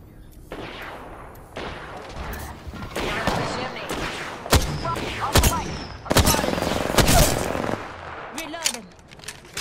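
Gunfire in Apex Legends: dense bursts of automatic weapon fire and sharp single shots come in clusters throughout, loud and close, with in-game voice lines and effects mixed in.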